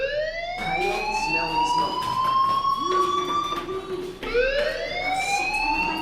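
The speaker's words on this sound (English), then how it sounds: "do you hear that fire alarm? That means you should be outside" A fire alarm in the video game Life is Strange rings steadily and loudly, its rising wail-like tone sweeping upward and then restarting once midway, filling the scene with no voices.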